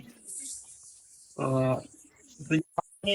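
Black pigeons give a few short, close coos in separate bursts between quieter stretches.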